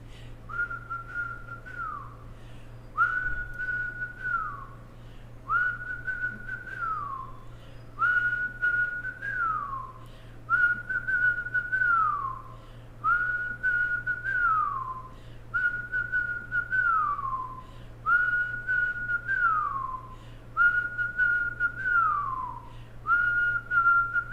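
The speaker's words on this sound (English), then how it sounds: "If you can't whistle, I want you to pretend you're blowing through a small straw." Whistling breath in a kundalini yoga breathing exercise: about ten sustained whistled exhales in a steady repeating rhythm, each a level tone that bends downward at its end, clear and close over a low steady hum.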